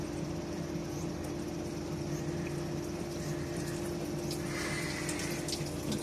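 Water from a tap or hose pours in a steady, unbroken hiss while orchids are watered, close and even throughout with no talking.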